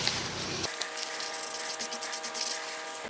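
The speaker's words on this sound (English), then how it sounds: "Wet sanding with a 400 grit sandpaper, just went over it lightly" Wet sanding of a 3D print by hand with 400 grit sandpaper, a soft, close, rhythmic rubbing and scraping with light strokes against a faint steady hum.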